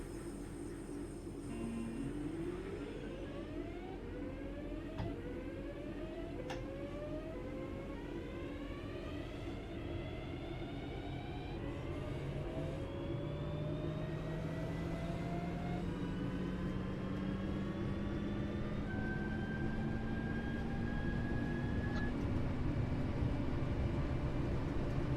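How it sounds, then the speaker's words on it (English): In the Train Sim World 3 game, a Class 323 electric train accelerates, its traction motors whining in repeated rising sweeps that step up through the drive over steady rumbling rolling noise, with no voices. "This train does sound a little bit like a Formula 1 race car"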